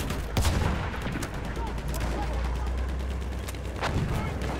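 Rifle fire in the video game Battlefield 1: a loud close shot near the start and another toward the end, each with a long rolling tail over constant battlefield rumble and scattered distant gunfire.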